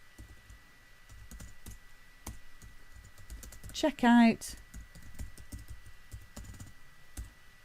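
Rapid clicking of computer keyboard typing, steady bursts of keystrokes, with a person briefly speaking midway.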